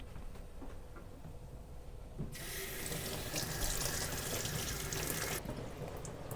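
Sprouts are rinsed under running water from a tap into a sink, a loud steady rush that starts suddenly, runs for about three seconds and then cuts off.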